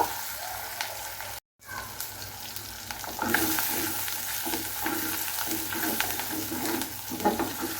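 Garlic tempered in hot oil for cooked mung lentils, a steady sizzle with a brief silent cut, then louder frying with repeated spatula scrapes at a close distance.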